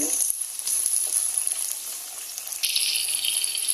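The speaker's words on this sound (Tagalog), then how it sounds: "Yan, igisa natin." Tomatoes sautéing in a hot pan for ginisang mongo give a steady, close, soft sizzle with faint stirring rattles, running alone without talk and brightening toward the end.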